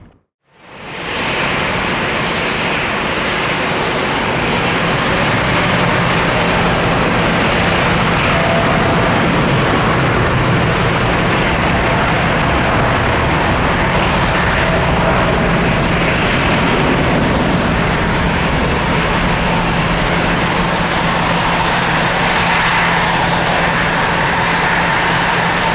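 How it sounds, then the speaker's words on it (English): An Airbus A350 jet arriving at Atlanta airport, its engines a loud, steady broadband roar that swells in within the first second and holds continuously throughout, with no voices. "caution wake turbulence, Airbus 350 arrival"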